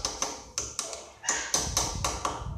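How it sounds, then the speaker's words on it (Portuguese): A hammer taps a steering-head bearing race into place on a Honda CG motorcycle, about ten sharp, ringing metallic strikes in an uneven rhythm, close and fairly loud with each hit decaying quickly. "Depois você vai bater com o martelo, ó."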